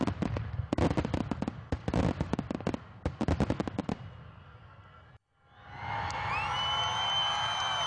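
Sharp firework bursts crackle and boom in quick clusters at an Independence Day show, then fade into a brief hush before a steadier rush of whistling, fizzing rockets rises.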